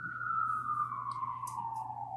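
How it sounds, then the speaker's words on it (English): A siren wails outdoors, heard faintly through a wall as one long tone that slowly falls in pitch over a low steady hum. "there's like a siren outside,"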